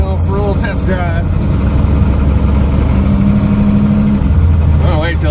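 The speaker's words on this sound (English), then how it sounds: "We're going for a little test drive." A Chevy drag truck with a 406 small-block V8 and a 4L80E transmission rumbles low and steady as it pulls away, with a voice speaking over the engine and a brief higher tone in the middle.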